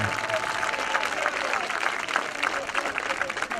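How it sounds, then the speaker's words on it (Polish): A crowd applauds after a touchdown at an American football game between Lowlanders Białystok and Zagłębie Steelers. The clapping and cheering carry on steadily while an announcer talks over them. "Wielkie brawa."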